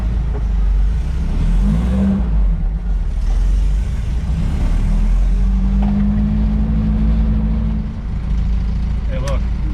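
A VW Baja car drives off and accelerates, its engine rumbling low and steady with rising revs, loud and continuous, while people talk inside the cabin.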